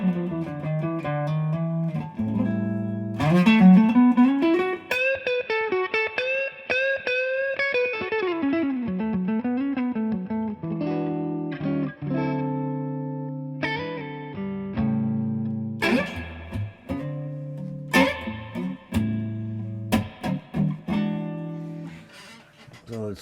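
Electric guitar played through a tube amp with reverb for a bluesy tone, a clear melodic line with sustained notes, bends and chords, played alone without talk.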